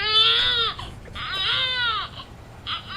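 A played sound effect of a wailing cry, baby-like and high-pitched, comes in three loud sobbing bursts with short pauses between them.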